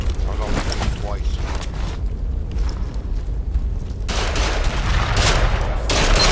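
Dense gunfire in the online shooter Ghost Recon Online, rapid continuous bursts and cracks with a heavy low rumble, loud throughout and swelling near the end.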